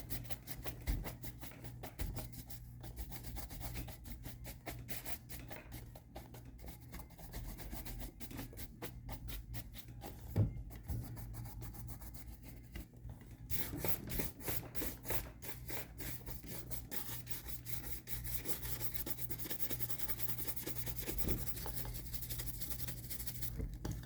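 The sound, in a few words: hand rubbing a metal finish smooth for mirror shine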